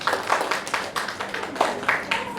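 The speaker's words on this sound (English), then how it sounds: "Clap for Jesus, somebody please." A church congregation claps for Jesus during a sermon. The clapping is scattered but lively and fairly close, with individual sharp claps standing out over a short stretch.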